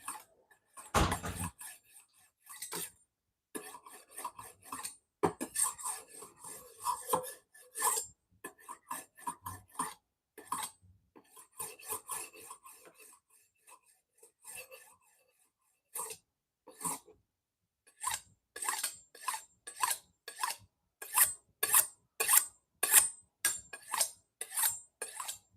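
A kitchen knife being sharpened before cooking a plant-based recipe: a long run of brisk, rhythmic scraping strokes, close and crisp, with short pauses between bursts.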